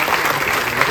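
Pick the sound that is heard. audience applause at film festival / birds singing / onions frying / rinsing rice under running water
audience applause at film festival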